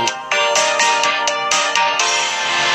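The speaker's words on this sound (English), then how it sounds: "Your phone buzzes" A phone rings with a bright, repeating electronic tone in the video game Choices: The Freshman, Book 4, steady and loud for a few seconds with no voices.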